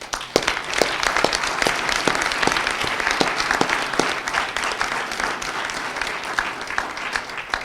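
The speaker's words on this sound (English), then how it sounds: "I'd like you all to give a round of applause to yourselves." A room of graduating students at a spring final-briefings event breaks into sustained applause, dense overlapping clapping with sharper individual claps standing out, loud and steady throughout.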